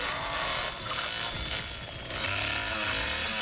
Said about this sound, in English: He's revving the chainsaw.